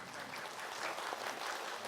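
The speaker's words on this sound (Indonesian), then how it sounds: "Tepuk tangan dulu dong Bu, boleh Bu." Audience applause at an Islamic talk show, a dense steady wash of many hands clapping for about two seconds, close and fairly loud with no talk over it.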